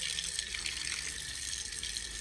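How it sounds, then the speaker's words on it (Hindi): Raw meat being washed under running water, likely in a sink at a village home: a steady, close gush of tap water that runs alone for a couple of seconds without letup. "इधर मैं गोश्त वॉश कर रही हूँ"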